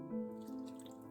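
Water pours from a glass into a pot of keema with a brief, quiet splashing gurgle that settles into a soft trickle.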